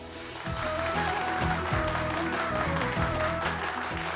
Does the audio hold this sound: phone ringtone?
no